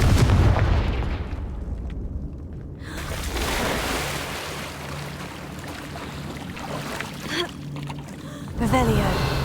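A Confringo fire spell is cast in the Hogwarts Legacy video game, giving a loud burst with a rumbling blast tail that settles into a steady roar, then a second swell near the end, with a voice speaking over it.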